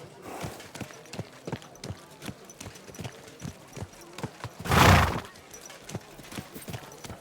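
Rhythmic hoof clip-clops plod along steadily, broken midway by a loud, close horse neigh before the hoofbeats continue; a horse in the video game Kingdom Come: Deliverance II.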